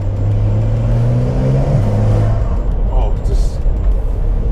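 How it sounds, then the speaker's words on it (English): A Porsche 911 engine hums steadily up close, its pitch rising in a smooth rev then dropping back, with constant road and cabin rumble underneath. "now you'll be able to hear the sound of the car a little better"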